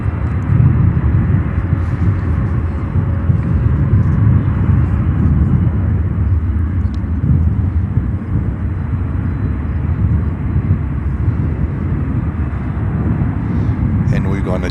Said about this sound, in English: the Atlas Air 747-400 will depart to Seoul in South Korea